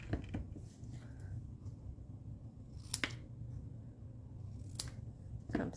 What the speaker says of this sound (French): Mes ciseaux.